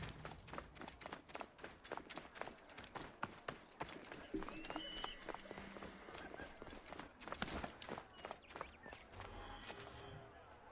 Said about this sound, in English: Why are all those horses running away?